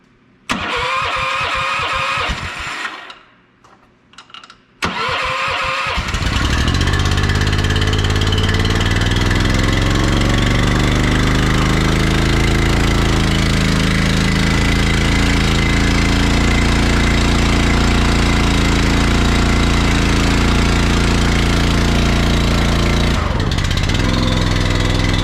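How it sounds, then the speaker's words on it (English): A Honda small engine cranks with a couple of pulls, catches, and settles into a loud, steady close-up running roar that holds for about twenty seconds, with a brief dip near the end. "So our Honda started up pretty good"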